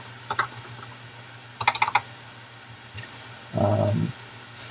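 Code being typed on a computer keyboard, with short bursts of close, crisp key clicks separated by pauses and a soft low hum underneath.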